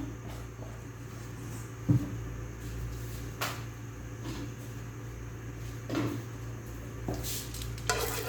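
A pan with a little oil is handled on a stove for Punjabi kadhi pakora, bringing a few scattered metallic knocks and scrapes over a low steady hum, with faint sizzling.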